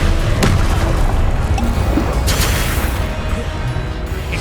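A fire spell cast in Hogwarts Legacy, a loud roaring burst with a sharp onset, sustained rumbling flame that stays dense and heavy for several seconds, slowly easing toward the end.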